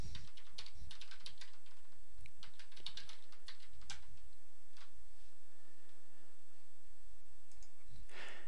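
A username and password are typed on a computer keyboard in quick bursts of close clicking keystrokes with short pauses, fading to a few isolated taps near the end.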